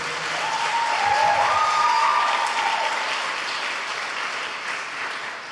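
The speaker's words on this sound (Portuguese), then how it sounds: "uma salva de palmas aos seus pastores" A church congregation gives a round of applause for its pastors, a dense, steady wash of many hands clapping that swells slightly in the middle and holds fairly loud for several seconds.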